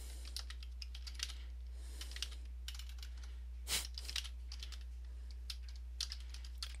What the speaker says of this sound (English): I swear, my left hand is always faster at typing than my right hand.